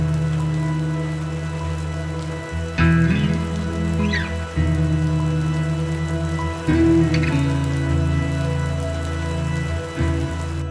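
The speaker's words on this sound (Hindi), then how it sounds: "यहाँ पे फिलहाल जो है बारिश शुरू हो चुकी है।" Rain falling at Saputara hill station in Gujarat, a steady wash of patter heard outdoors, with a low hum and intermittent clunks and thuds in the background, and no voices.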